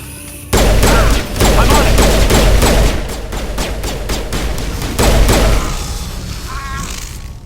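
Rapid bursts of gunfire fill a shootout in the video game Mass Effect, loud and close, with dense rattling volleys broken by short pauses and a brief shouted voice near the end.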